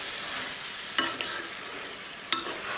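A tomato and minced-meat sauce simmers in a pan, a steady bubbling sizzle with a few sharper scrapes of a spoon stirring through it, close by and with no one speaking.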